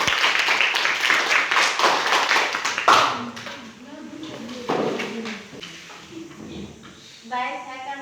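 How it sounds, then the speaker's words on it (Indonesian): A classroom claps for a student group, a dense burst of many hands for about three seconds that then trails off, followed by a voice speaking. "Kita tepuk tangan untuk kelompok 1."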